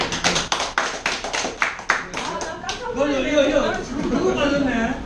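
A group claps together in a burst of sharp rhythmic applause at a tour gathering, the claps tapering off as lively chatter and talking take over.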